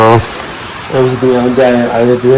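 Heavy rain pours in a steady broadband hiss throughout, with a person talking loudly over it in the foreground.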